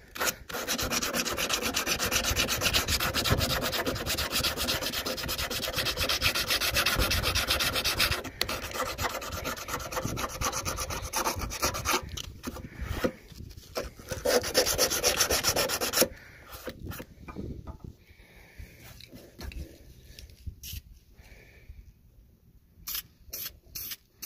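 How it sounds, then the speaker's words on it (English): Hand sanding damage on the fender of a 2005 Dodge Power Wagon: long, steady rasping strokes for about sixteen seconds, then shorter broken passes that thin out toward the end. "I just want to sand it down and put a little paint on it."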